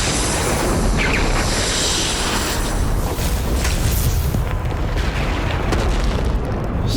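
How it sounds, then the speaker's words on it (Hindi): A dense, thunderous explosion rumbles on with a continuous roaring blast of deep noise, loud and sustained for several seconds. "ये कैसा विस्फोट हुआ?"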